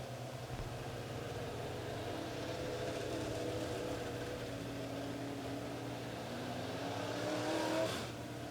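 Late model race cars rev and accelerate around a dirt track in a steady, distant engine drone that swells slightly near the end, with no talk over it.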